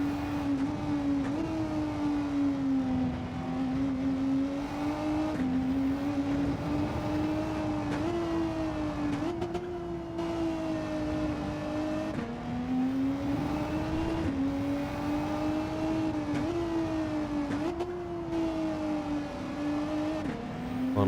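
Gran Turismo 7 GR3 race car engine holding a loud, steady high-rev drone across a start-finish dash, with brief dips and climbs as gears change, close and continuous with no talk.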